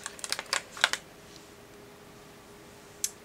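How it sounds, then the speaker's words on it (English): A vinyl tree decal peeled off its backing sheet for an acrylic pour canvas, a quick series of crisp crackling tears for about a second, then quiet and one more short snap near the end. "I'm just peeling off one of the trees."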